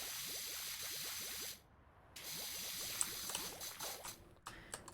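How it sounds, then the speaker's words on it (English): Wood soap sprayed onto wood in a series of short, quick pump-spray bursts that repeat in a steady rhythm, with a brief pause partway through before the spraying resumes, all close and fairly quiet. "Spray it down with our wood soap."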